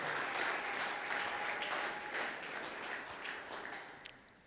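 A church congregation applauds at a Sunday thanksgiving worship service, a sustained dense patter of many hands clapping at moderate distance that gradually thins and fades near the end.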